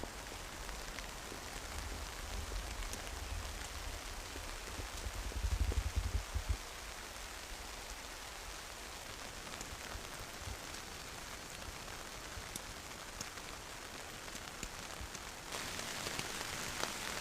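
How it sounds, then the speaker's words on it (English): Rain falls steadily on a tent during a solo mountain camping trip in the Kaimanawa range, producing a soft, even hiss of drops with occasional louder patters and a low rumble, faint and continuous with no talking. "It's actually raining quite a bit now."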